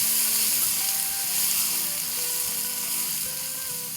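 Carrot, bell pepper, red jalapeño and cabbage stir-frying for chow mein, giving a steady close hiss and sizzle with faint scraping of the stirring utensil, no voices.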